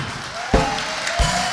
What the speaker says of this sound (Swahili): Tuchape makofi kiasi.